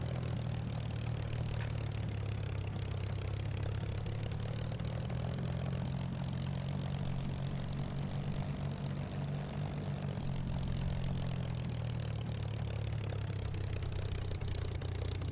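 Propeller plane engine idling in Microsoft Flight Simulator 2020, a continuous, even low drone with a deep steady hum and broad whooshing, holding constant at moderate level throughout.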